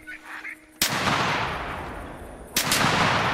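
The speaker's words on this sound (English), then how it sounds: "Holy fast shooting! I can't believe how fast we could shoot." Shotgun blasts at a flock of ducks in the hunting video game TheHunter Classic, two sharp loud shots each followed by a long echoing rumble, with faint duck calls beforehand.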